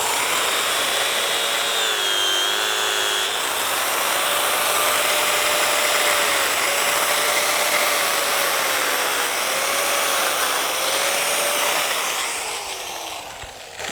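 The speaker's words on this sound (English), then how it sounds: "I'm going to use my grinder, and I'm going to cut just this side of the stitching up here" An angle grinder cuts through the stitching of a snatch strap, a loud continuous high whine with a wavering pitch that holds steady for the whole stretch before easing off at the end.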